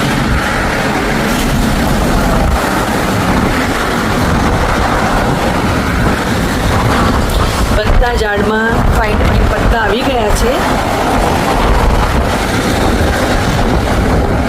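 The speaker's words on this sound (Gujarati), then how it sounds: "અવાજ આપને આવતો હશે કે કેટલી સ્પીડમાં પવન આવી રહ્યો છે." Strong wind gusting outdoors in Canada, a steady broadband rush that stays loud throughout, with someone talking over it.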